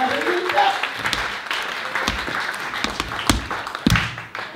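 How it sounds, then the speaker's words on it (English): Scattered clapping from a small group giving a round of applause indoors, uneven and fairly sparse with a few sharp individual claps, mixed with voices talking. "Round of applause for that."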